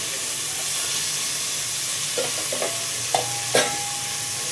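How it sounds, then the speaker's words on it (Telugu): Onions frying and being stirred in a pan for a Sunday non-veg curry, giving a steady soft sizzle and hiss with a few brief clinks and scrapes of stirring near the end; no talking. "ఇక్కడ కొంచెం ఆనియన్స్ వేసుకున్నాం"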